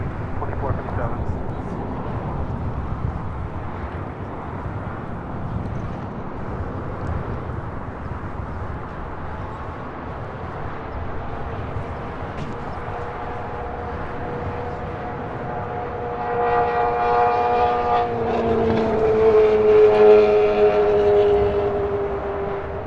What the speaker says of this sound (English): The Emirates A380 is now rolling.